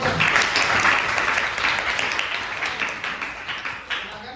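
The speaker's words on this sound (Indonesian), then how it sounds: "Tepuk tangan dulu." Students in a 10th-grade Islamic jurisprudence class clap together in a dense burst of applause that continues steadily and slowly thins out, with a few voices faintly underneath.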